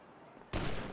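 A sudden burst of gunfire cuts in halfway through during a video game roleplay fight. It is loud and sustained after a quieter lead-in.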